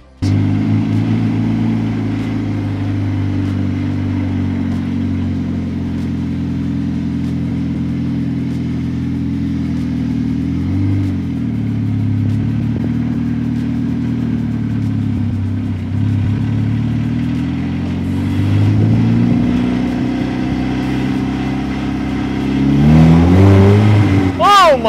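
A DF Goblin kit car on its first drive, engine running steadily with a low, loud drone and occasional rises in revs, building to a stronger rev near the end; no talk during the sound.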